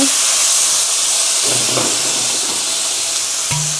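Fish sauce and light soy sauce hit a hot stir-fry in a northern Thai kitchen, giving a loud, steady hiss of sizzling steam, with short bursts of clattering around the middle and near the end.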